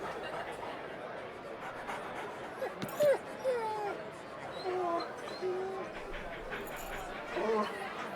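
Dog sounds from the video game Life is Strange Before the Storm: a few short whimpers and yips mixed into a busy game scene, moderately loud against background ambience.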